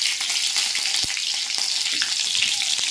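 Chopped green chillies frying in hot oil with bay leaf and panch phoron, giving a steady bright sizzle with a few soft stirring knocks, close up and with no talk over it.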